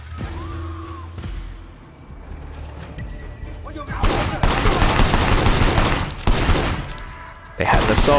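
Bursts of assault rifle fire in Sleeping Dogs, loud rapid fusillades crackling over a busy game backdrop, with a quieter lead-in before heavy sustained shooting and another burst at the end.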